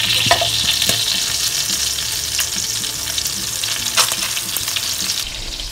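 Marinated duck legs fry in oil in a pan, giving a steady bright sizzle with crackles and occasional louder pops, close and continuous with no talking.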